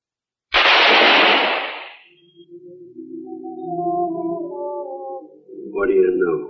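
A loud gunshot blast in a western TV drama, fired close beside a man's head, followed by a sustained ringing tone and a second sharp burst near the end.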